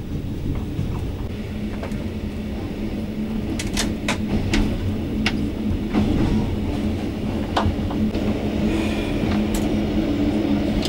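Overnight train nearing Warsaw, Poland: a steady low rumble of rail travel with occasional sharp clicks and knocks from the carriage, running continuously at moderate loudness with no talking.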